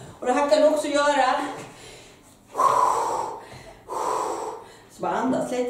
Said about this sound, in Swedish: Så bara andas lite.